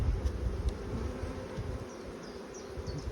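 Honey bees hum steadily around an open hive during a super swap, a dense low buzz with a few brief higher whines of single bees passing close, no voices.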